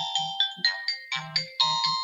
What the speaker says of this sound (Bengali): কল আসছে একটা